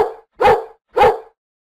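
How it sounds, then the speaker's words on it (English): A dog barks three times in quick succession, loud and close, with brief silences between each bark. "What sound does a dog make?"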